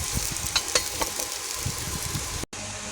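Bottle gourd fritters fry in a pan of hot oil, a close, steady sizzle dotted with small crackles and pops, with a brief cut near the end and no speech.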